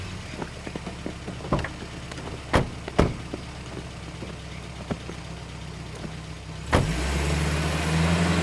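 A car in a Hindi-dubbed South Indian action movie scene: a few sharp door-like thumps and knocks, then an engine starts near the end and settles into a steady close rumble, with no talk.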